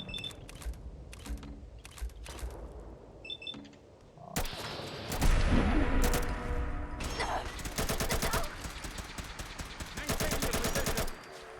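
Rifle gunfire in Fallout 4, first scattered single shots with mechanical clicks, then dense rapid bursts of loud fire mixed with impacts and clatter, continuing in waves to the end.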